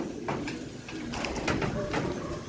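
An escaped breeder pigeon with a yellow leg ring coos near a loft, soft repeated throaty calls close by over a low ambient rumble.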